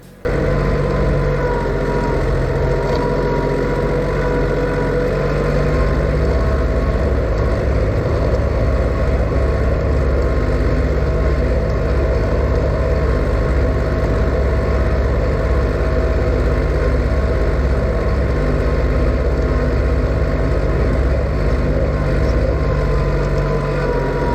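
A Yuto mini tractor ploughing garden plots with a homemade 1x30 plough, its engine droning loud and steady throughout at close range, with no talk.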